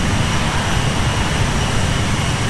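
Embraer 170 jet taking off at dawn from Montreal YUL in Flight Simulator X, a steady loud roar of engine noise filling the whole stretch without any break.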